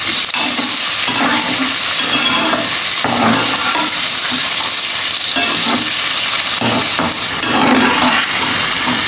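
Onions sautéing in a pan for peas paneer pulao, a loud, close, steady sizzle with repeated rhythmic stirring scrapes throughout, no voices.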